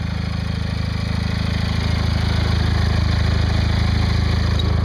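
A tractor engine runs at a steady idle, loud and close, with an even low throbbing pulse that holds unchanged throughout and no talk over it.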